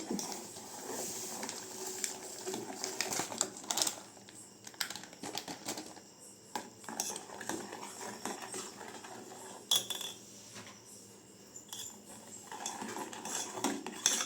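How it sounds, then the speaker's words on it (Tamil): A spoon stirs powder into a strawberry ice cream mixture in a pot over a low flame, making quiet, irregular clinks and scrapes against the metal, close up and soft, with no voices. "இந்த பவுடரை கொட்டி மிக்ஸ் பண்ணிக்கலாம்"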